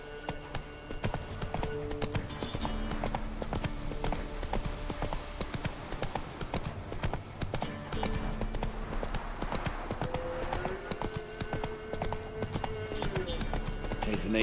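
Roach, a horse in The Witcher 3, gallops with steady rapid hoofbeats that continue throughout, mixed with game music and a voice speaking over it.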